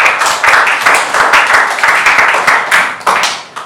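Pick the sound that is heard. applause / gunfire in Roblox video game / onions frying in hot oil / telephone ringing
applause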